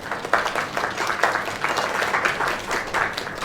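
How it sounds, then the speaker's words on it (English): Steady crowd applause from the video game Lake, with dense clapping throughout, fairly loud and continuous, with no pauses or voices standing out. "Another round of applause."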